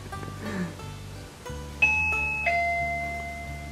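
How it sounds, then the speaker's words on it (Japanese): A doorbell rings with a two-tone ding-dong chime, loud and close, with each tone ringing out clearly and no voices over it. "ピンポン鳴らしてみようか な"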